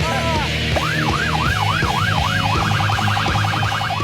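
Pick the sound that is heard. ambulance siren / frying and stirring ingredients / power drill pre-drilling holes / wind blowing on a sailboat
ambulance siren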